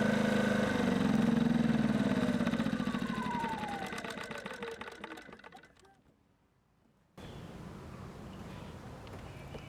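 A Ryobi 2300 watt portable generator rumbles loudly at first, its engine note fading and dropping away to near silence before a steady hum of running picks up again.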